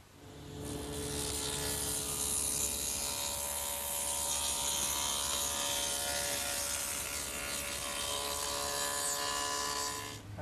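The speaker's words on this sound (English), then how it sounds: "And I've set up at the table saw to do that." A table saw runs steadily, cutting rabbets into 3/4 inch MDO panels with a loud, continuous whine and a broad rush of blade noise that holds unchanged for about ten seconds, with no talk.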